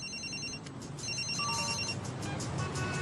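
A cartoon cellphone ringtone chirps in repeated electronic bursts, fairly loud over a steady background bed, with no voices.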